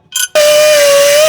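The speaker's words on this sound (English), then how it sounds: "I think I need to grind on that side of the hole." A power grinder spins up hard against the exhaust pipe metal, widening a hole, after a brief clatter; one loud, steady high whine runs on without letup.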